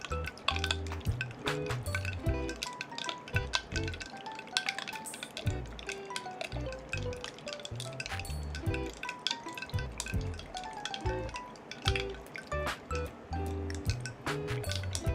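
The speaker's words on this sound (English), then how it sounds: "アイスを溶けるためにいろいろぐるぐるしてるね" Ice cubes stirred around in a V60 iced coffee, clinking and sloshing continuously and busily throughout, with liquid swirling close by and no talking.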